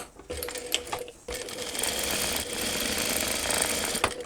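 A sewing machine bastes a line of stitching across fabric for a book-sleeve switch case, starting with a couple of short stuttering bursts, then running steadily close up, with no talking.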